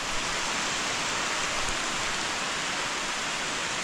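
Heavy rain pouring steadily on a farm plot, a dense, unbroken hiss of downpour that fills the whole clip, loud and close with no voices.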